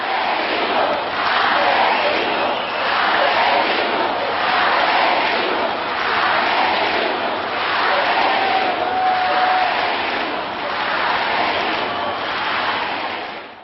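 Thousands of protesters chant rhythmic slogans outside the Governor House, a dense crowd roar rising and falling in regular waves throughout.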